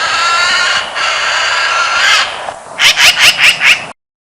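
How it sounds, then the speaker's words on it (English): A magpie gives a loud, close call. A long warbling phrase is followed by five quick, sharp, evenly spaced notes, then the call stops abruptly. "Magpie."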